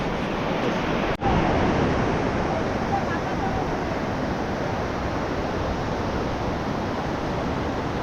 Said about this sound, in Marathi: मित्रांनो हे सगळं पाणी बर्फातनं पागळून येते.